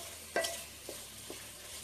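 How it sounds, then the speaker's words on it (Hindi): Prawns sauté in a pan for a masala, giving a faint, steady sizzle with a few soft stirring scrapes and clinks, heard alone and quiet. "इसे हमें अराउंड 2 मिनट तक सॉटे करके लेना है."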